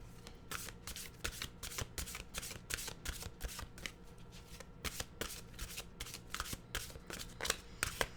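Oracle cards being shuffled by hand, a steady run of crisp riffling bursts repeating roughly twice a second, close and fairly quiet with nobody speaking.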